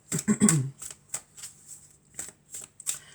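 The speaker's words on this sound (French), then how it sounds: "Alors, on va prendre d'autres cartes." Oracle cards being shuffled by hand for a reading, a crisp burst of riffling followed by several lighter, separate flicks and slaps spread over a few seconds, close and fairly quiet.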